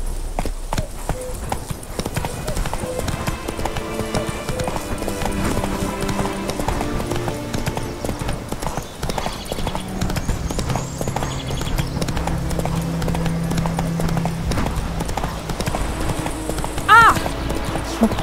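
Roach, Geralt's horse in The Witcher 3, gallops with steady rapid hoofbeats under game music and talk, and a brief whinny rises near the end.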